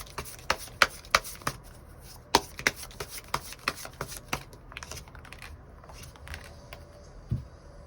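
Tarot cards being drawn and shuffled by hand: a run of sharp, close snaps and taps, quick and clustered at first, then sparser and softer toward the end.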